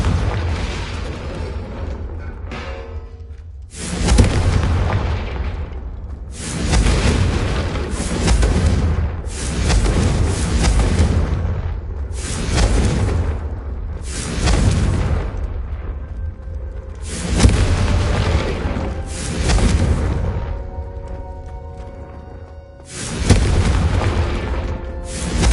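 Repeated Confringo blasting spell explosions in Hogwarts Legacy, about eight loud booming blasts in quick succession, each a sharp burst trailing into a rumbling decay, with brief quieter gaps between them.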